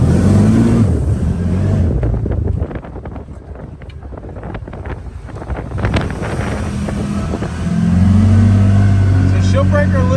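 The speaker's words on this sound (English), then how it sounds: "I'm going to get in this gravel and spin this gravel a little bit" A CFMOTO UFORCE 1000 UTV revs hard, its engine roar rising and falling as the tires spin and break loose in gravel, with wind buffeting the microphone throughout.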